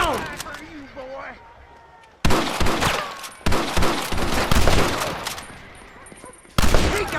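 Dense gunfire in a Red Dead Redemption shootout, rapid overlapping rifle and pistol shots in loud bursts, with voices shouting over the fight.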